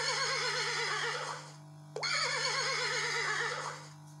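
A horse neighs loudly twice, each a long, shaky whinny with a sharp break between the two calls, heard alone with a steady low hum underneath.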